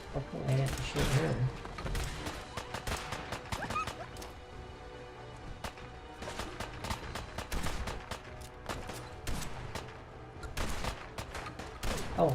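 Rapid gunfire bursts from the Fallout 4 Far Harbor DLC, sharp cracks repeating throughout with loud transients and some heavier impacts, a busy combat soundscape that never pauses.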